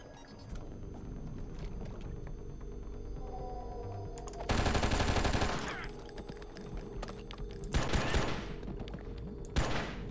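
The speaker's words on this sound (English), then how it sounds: "Oh, he's firing." Enemy gunfire in ONI comes in loud rapid bursts of automatic shots: one long volley in the middle and shorter sharp bursts later, over a low ambient drone.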